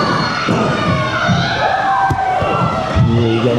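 A wrestling crowd at an XIW event roars and cheers after a suplex, a dense, loud wall of shouting voices with scattered thuds from the ring and a commentator talking over it.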